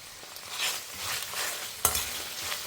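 Vegetables for a coconut vegetable stew sauté in a pan with curry leaves. Soft stirring scrapes run over a gentle sizzle, broken once by a sharp metallic clink.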